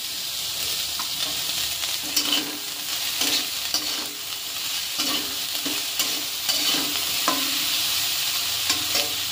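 Dry fish and pointed gourd fry together in a pan, a steady close sizzle broken by repeated spatula scrapes and knocks as the pieces are turned.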